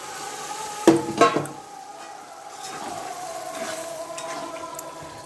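Small pieces of mutton are stir-fried in a pan while being cooked down, giving two loud scraping clatters of the spatula followed by a low steady sizzle and faint scrapes.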